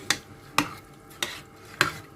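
Rice is stirred in a stainless steel Tupperware cooking pot, giving four evenly spaced scraping clinks of the spoon against the metal, close and alone.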